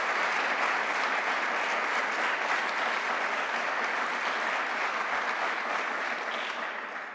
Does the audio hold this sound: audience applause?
yes